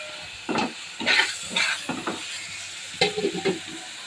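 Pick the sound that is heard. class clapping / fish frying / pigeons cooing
fish frying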